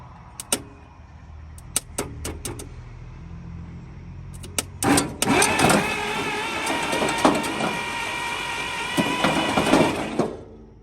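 Close mechanical clicks and taps, then a 1939 International fire truck engine whirs up with a rapid, repetitive rattling as the fan strikes the radiator, running steadily.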